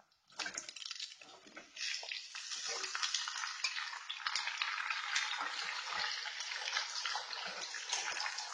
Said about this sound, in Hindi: इसके साथ ही अब हम ऐड कर देंगे आलूओं को।